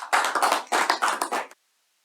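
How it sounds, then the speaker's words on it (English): Applause from a small meeting audience, a short burst of brisk clapping that swells and pulses for about a second and a half before stopping abruptly into silence. "let us all give a big round of applause"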